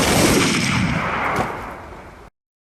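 A firing squad's rifle volley sounds as one loud, close blast that rumbles and decays for about two seconds before cutting off.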